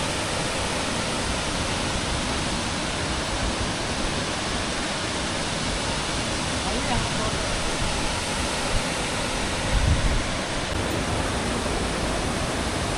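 A waterfall in forested surroundings roars as a dense, steady wash of rushing water, loud and unbroken from start to finish with no pauses.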